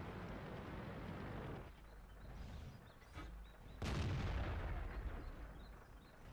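Tank cannon fire in the video game World of Tanks: a couple of heavy booming shots stand out over ongoing rumbling battle noise, all fairly quiet overall.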